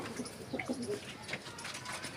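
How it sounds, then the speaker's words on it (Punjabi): Soft, distant cooing comes from a loft of pet pigeons, including a white female bird with dark eyes. A few low, faint coos drift over quiet background noise. "ਇਹ ਵੀਰੇ ਬਰੜੀ ਕਬੂਤਰੀ ਆ ਚਿੱਟੀ ਕਾਲੀ ਅੱਖ ਦੀ ਕੂਤਰੀ ਹੈ"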